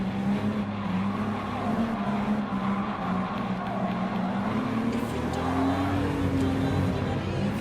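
A classic Jaguar E-Type braking hard and sliding in Gran Turismo Sport, with a steady engine drone and a long tire squeal that shifts in pitch as the car scrubs through the corner, continuous and close for several seconds.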